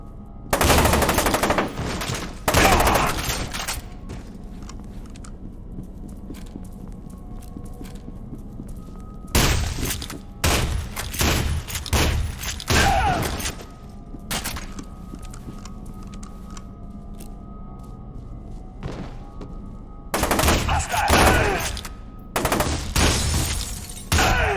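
Bursts of rapid automatic gunfire from a weapon in the video game FEAR 2, loud and close, firing in three long volleys separated by quieter stretches of softer clicks and background game sound.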